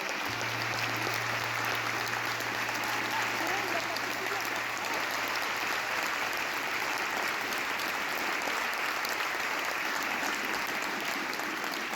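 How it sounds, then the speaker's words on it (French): A concert audience applauds a musician with sustained, even clapping that stays dense and consistent from start to finish, heard at a moderate distance, with a low steady hum running beneath the first half. "Eric, on peut l'applaudir très très fort."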